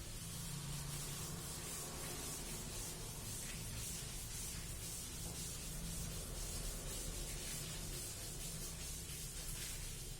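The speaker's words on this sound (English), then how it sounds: "So I'm going to rub it off." Writing being rubbed off a board during a maths lecture on linear equations, a steady soft scrubbing hiss that continues without a break and carries no speech.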